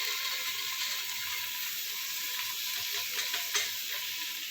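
Fried onions with cluster beans and a green chili sizzle steadily in a pan at home, a close, continuous hiss with occasional stirring clicks and no talk over it.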